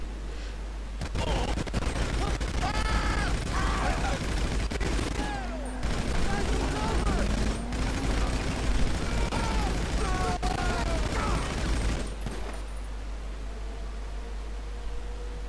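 Sustained assault rifle fire in GTA 5 during a modded Cayo Perico heist, with dense rapid bursts continuing for several seconds amid overlapping talk and game sounds, then cutting off abruptly.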